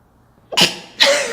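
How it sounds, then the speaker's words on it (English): A single close, sharp sneeze burst after a brief quiet, followed by a second explosive breathy exhale, loud and nearby. "I was like, wait a minute, I gotta sneeze."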